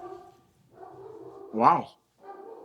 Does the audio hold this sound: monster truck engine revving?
no